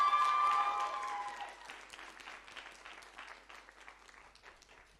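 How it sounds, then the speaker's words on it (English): An audience at the Africa Science Buskers Festival 2025 opening ceremony claps in a dense burst of applause that starts loud and gradually thins and fades. "A round of applause for Keith as he comes up."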